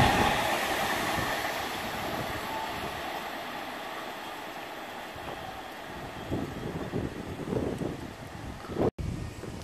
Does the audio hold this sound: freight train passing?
yes